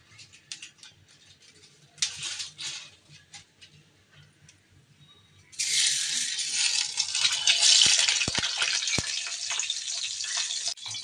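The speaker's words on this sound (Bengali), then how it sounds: "হয়তো পুরিগুলো ভেজে নিচ্ছি যেহেতু ফ্রোজেন ছিল" Frozen dal puris drop into hot oil in a wok, and a loud, dense sizzle starts abruptly and then holds steady, with a few faint clicks and quiet rustling before it.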